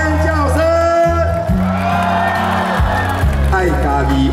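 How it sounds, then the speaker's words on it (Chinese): Crowd at an outdoor evening concert cheering and screaming under a loud amplified voice and music, the shouting heard as a sustained roar throughout. "那么掌声加尖叫声"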